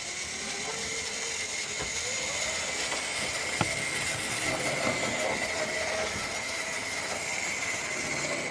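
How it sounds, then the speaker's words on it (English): Two steam locomotives, a Manor class and a 4300 class mogul, arrive together on a heritage line. A steady rolling rumble with high squealing tones builds, then a single sharp clank marks an abrupt stop. "There you can see the two locomotives there together. That's our Manor class Lyddon Manor and our 4300 class 260 mogul there as well."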